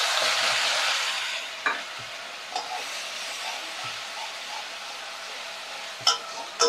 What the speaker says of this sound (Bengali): এবারে এর মধ্যে আমি পেঁয়াজ, আদা, রসুন একসঙ্গে পেস্ট করে রেখেছি দিয়ে দিচ্ছি